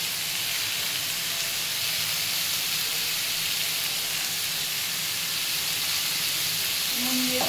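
Pumpkin frying in a pan on a home stove, a steady loud sizzle and hiss that continues throughout, with a brief clink near the end.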